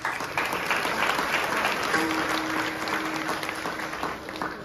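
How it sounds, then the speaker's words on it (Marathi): An audience claps at an outdoor kirtan in Shivaji Chowk, Hupari, giving a steady wash of many hands for several seconds, with a faint sustained tone partway through. "दादासाठी टाळ्या वाजवायच्या"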